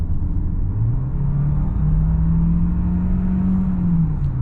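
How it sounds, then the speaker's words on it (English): A 2022 Hyundai Santa Fe Plug-in Hybrid's engine starts up under full throttle in sport mode on the highway, a steady low droning rumble with a slowly rising tone, heard from inside the cabin with no talking. "And the engine kicked in because I did push the gas pedal all the way to the ground."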